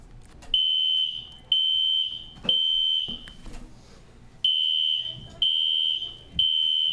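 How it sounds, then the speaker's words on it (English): A classroom fire alarm sounds in a repeating pattern of loud, steady high-pitched beeps, each about a second long with short gaps, six pulses in all, over faint room noise. "Fire alarm, eh?"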